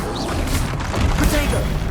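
Spell combat in Hogwarts Legacy: a dense, continuous wash of magical blasts, impacts and rumbling effects that stays steadily loud throughout with no clear pauses.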